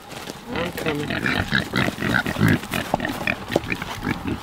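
Pigs on a family homestead grunt and oink close by in a steady, busy stream of snorts, with a person speaking over them.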